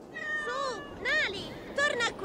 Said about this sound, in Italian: Che gatto grazioso.